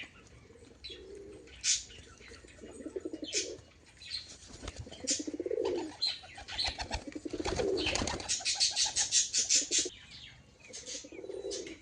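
Pigeons coo in low, rolling murmurs while wings flap in quick bursts, with scattered chirps mixed in; busy and close, no talking.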